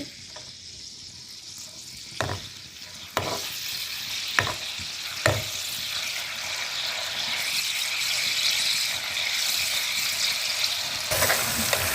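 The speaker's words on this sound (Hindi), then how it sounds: "अब हम इसको घी में फ्राई करेंगे।" Green coriander chutney frying in hot ghee, a loud steady sizzle close by, punctuated by a few sharp knocks and scrapes of a spoon stirring the pan.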